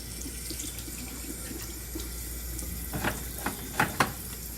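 A bathroom tap runs steadily as warm water fills for hand washing, a soft continuous hiss broken near the end by a few louder splashes as hands move under the stream.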